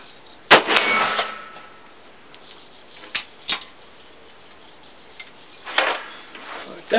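.41 Magnum 210 grain Remington soft point rounds striking mild steel and AR plate, giving a sharp crack with a ringing clang, then fainter hits, and a second loud impact near the end, all fairly quiet overall.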